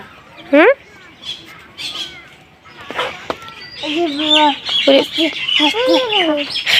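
Chickens and birds in a rural village yard on a winter morning, with several close, loud clucks and chirps. A voice and other vocal sounds run through most of the clip alongside the calls.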